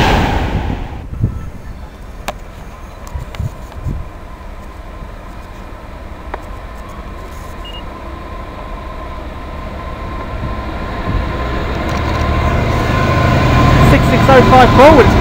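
A Lafarge aggregate freight train rolls past with a steady, building rumble and clanking wagons that grow louder and closer toward the end, with some talk in the background.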